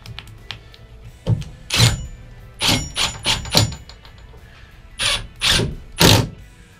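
A bolt on a truck tailgate backing plate is tightened with a power tool in a series of short, loud whirring bursts separated by brief pauses, with a few mechanical clicks in between.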